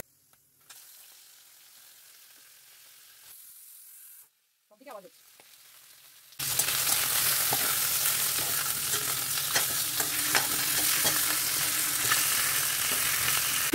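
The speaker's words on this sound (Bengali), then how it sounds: "চলো তেল গরম হয়ে গেছে, মাছের মাথাটাকে আগে ভাজি" Fish head dropped into hot oil, bursting into a loud, dense sizzle after several seconds of near quiet and a brief faint sound, then frying steadily and close to the end.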